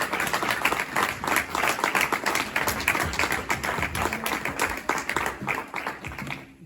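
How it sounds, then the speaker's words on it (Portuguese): An audience gives sustained applause for a speaker at a public gathering, a dense, continuous patter of many hands at steady moderate volume that fades slightly toward the end, with no voices. "Uma salva de palmas para o Paulo Teixeira"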